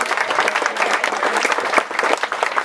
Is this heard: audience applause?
yes